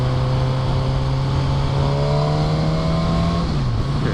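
A 2016 Suzuki GSX-S1000 motorcycle engine hums loudly and steadily under light throttle, its tone rising slightly before dipping near the end, close and continuous without speech.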